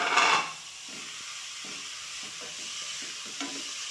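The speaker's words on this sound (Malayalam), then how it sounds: "നമ്മൾ പാനിലേക്ക് നെയ്യ് വെച്ചിട്ട് ഇത് നെയ്യിൽ നല്ലോണം വഴറ്റിയെടുക്കണം കേട്ടോ." Grated coconut sautéed in ghee in a pan for payasam gives a steady soft sizzle with stirring scrapes, louder at the start and then settling to a quieter constant fry.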